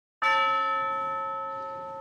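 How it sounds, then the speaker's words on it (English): A single tubular bell from an orchestral film score rings out clearly on its own, struck once and then sustaining a bright, shimmering metallic tone that slowly fades. "The tubular bells in there to give it that shimmering, resplendent quality."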